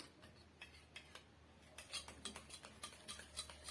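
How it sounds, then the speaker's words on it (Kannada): Spoon stirring an egg face pack mixed with coffee powder in a small bowl, quiet repeated scraping and clinking strokes in an irregular rhythm, close and soft. "ಬ್ರೂ ಪೌಡ್ರ್ ತಗೊಂಡು ಯಾವುದಾದ್ರು ತಗೊಳ್ಳಿ ಚೆನ್ನಾಗಿ ಮಿಶ್ರಣ ಮಾಡ್ಕೊಳ್ಳಿ"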